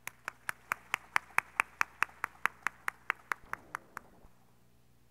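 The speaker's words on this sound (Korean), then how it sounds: "여러분께서 큰 박수를 보내주시면 무대가 시작됩니다." At a Statistics Day anniversary ceremony, an audience claps in unison to a steady, quick beat of about twenty crisp, evenly spaced claps that then stops abruptly, leaving near silence.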